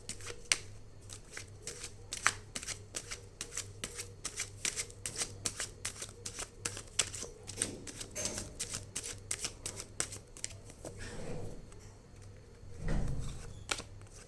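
Tarot cards being shuffled and drawn in a series of crisp, rapid riffling flicks and soft slaps, steady and close, with a low hum underneath and a brief shuffle of movement near the end.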